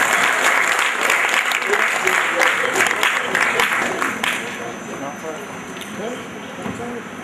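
Audience applause at a Cyber Secure Nigeria conference session, dense clapping that fills the room at a steady loudness before easing slightly toward the end, with some voices faintly mixed in.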